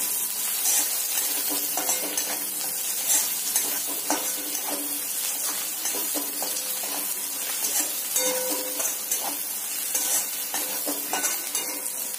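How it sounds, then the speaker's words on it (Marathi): Garlic, ginger and green chilli sautéing in oil for a desi-style pasta with Indian spices. A continuous crackling sizzle sounds up close, with frequent spoon scrapes and stirring knocks against the pan. "मी या ठिकाणी लसूण, आलं आणि हिरवी मिरची घालून घेणार आहे. आपण असं छान तेलावर याला सुद्धा परतवून घेणार आहे"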